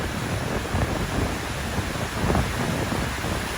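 Steady broadband roar of a waterfall rushing near a creek bridge on a trail, continuous and close with no voices.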